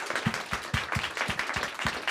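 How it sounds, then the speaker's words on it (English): An audience at a creative industries conference applauds the panel speakers, a soft, fairly distant round of clapping with a loose, regular beat of thumps running through it. "Can we have another round of applause?"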